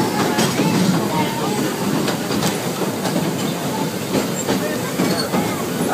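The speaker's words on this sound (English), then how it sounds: "Runaway mine trains, Big Thunder Mountain Railroad, the runaway trains." Big Thunder Mountain Railroad runaway mine train ride rumbles and clatters along its track. The sound is a steady, loud, dense roar with scattered clicks and rattles throughout, and a faint voice can be heard beneath it.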